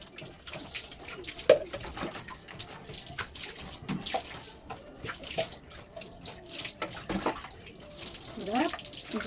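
Tap water runs and splashes during a dog's bath, a fairly faint, uneven flow with intermittent splashes while a person talks quietly over it.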